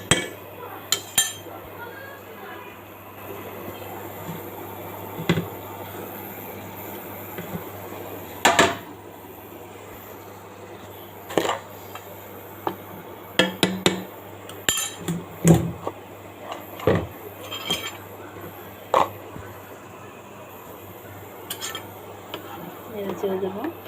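Zarda pulao, a sweet rice dish, is stirred in a metal pot: scattered scraping clinks and knocks of a utensil against the pot sides, irregular and fairly close, over a low steady kitchen hum.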